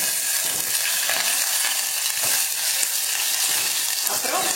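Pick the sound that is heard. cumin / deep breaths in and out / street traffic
cumin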